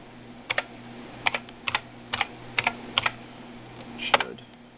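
Keys pressed on an IBM RS6000 computer keyboard while entering a password: short paired clicks in small irregular bursts, close and clear over a faint machine hum, with a louder final keystroke.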